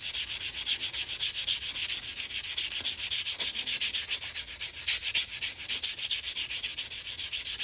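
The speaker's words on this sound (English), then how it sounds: "that's what I'm doing with this nail file block here, is just sanding that down" Close, rhythmic rasping of a nail file block sanding the metal edge of an 1883 Morgan silver dollar, with fast repeated back-and-forth strokes at a steady pace.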